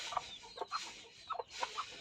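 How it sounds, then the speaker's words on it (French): Rooster clucking close by in short repeated bursts, several low throaty clucks spaced through two seconds, outdoors by a henhouse with no voices over it. "Et mon coq, là, il sait plus quoi."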